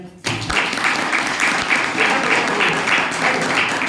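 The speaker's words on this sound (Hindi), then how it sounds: "एक बार जबरदस्त तालियां।" Applause from an audience at an open speaking meeting in Gurgaon, Haryana, starting abruptly and holding as dense, steady clapping that stays loud and close throughout.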